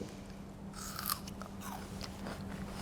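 Raw ginger is bitten and chewed up close, a few faint crunchy bites and moist chewing sounds over a quiet low hum, without speech.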